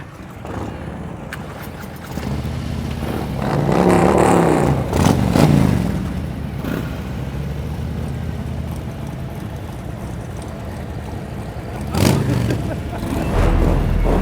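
Motorcycle engines at a slow-speed riding practice session start and rev loudly in several surges, a roaring burst early on and another later, with a steady engine drone and voices in between.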